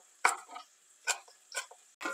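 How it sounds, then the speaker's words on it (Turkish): Fresh dill chopped finely with a knife on a board, a few sharp, close knocks spaced unevenly over two seconds in a quiet kitchen. "Dereotlarımı da minik minik doğruyorum."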